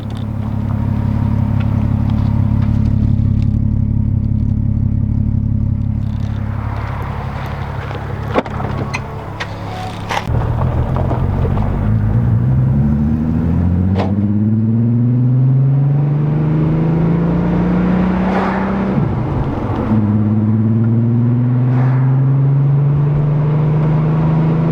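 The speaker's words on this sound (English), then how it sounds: "The VR6 sound, it's so good." A VR6 engine in a 1987 MK2 Jetta idles steadily, then revs up in several rising and falling sweeps, loud and close, with no talking.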